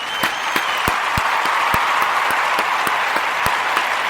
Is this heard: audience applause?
yes